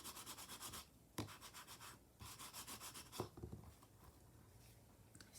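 A paper lavender tag is burnished by hand with quick rhythmic rubbing strokes, soft and close. The strokes come in short bursts separated by brief pauses.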